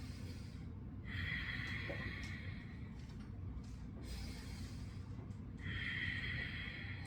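A person imitating loud Ujjayi breathing during Shavasana, two long, rasping, hissy breaths with a throaty constriction, close and prominent over a low background hum.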